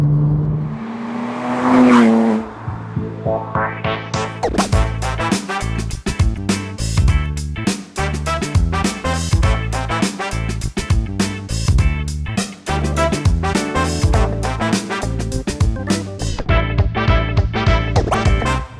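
A converted 4.1-litre Porsche Cayman 987 being driven, its engine loud and close, revving hard through repeated rising pulls with sharp gear-change breaks and steady harmonic drone, no voices over it.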